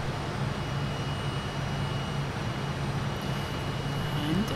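Jet engines of a Fokker F28 airliner in Microsoft Flight Simulator, a steady broadband roar with a low hum as power is added during the climb, continuous and fairly loud with no talk.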